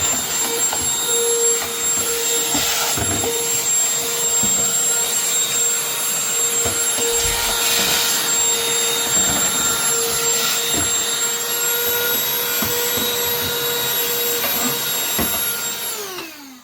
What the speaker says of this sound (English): I'm just going to quickly vacuum clean it one more time just to get any loose debris.